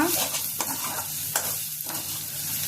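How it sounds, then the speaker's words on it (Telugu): Garlic chili powder fry with a sprig of curry leaves is stirred in a pan, a steady sizzle broken by a few sharp scrapes of a spoon against the pan, close and clear with no talk. "ఇప్పుడు ఒక రెమ్మ కరివేపాకు, ఇప్పుడు ఇదంతా ఇందులో కలిపేసుకున్నా"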